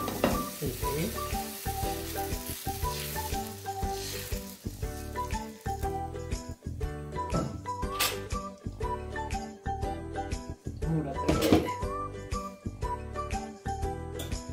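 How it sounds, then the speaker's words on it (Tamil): A plain dosa cooking on a hot griddle with ghee poured around its edge, a steady close sizzle and crackle with faint tinkling clinks of utensils throughout. "இது மூடாம சுட்டு காட்டுறேன். இது கொஞ்சம் நெய் இப்படி கரையில விட்டுருக்கேன்"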